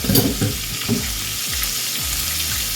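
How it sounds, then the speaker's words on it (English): Quail pieces fry in hot oil with a steady, dense sizzle and crackle throughout, a few louder bubbling pops near the start, with no talking. "So I'm gonna let these fry"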